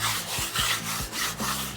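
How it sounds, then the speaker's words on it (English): Steady back-and-forth rasping of sandpaper rubbed by hand over a painted wooden window sill between coats, close up, in a regular rhythm of strokes with no talking. "I'm just going to lightly sand a few spots."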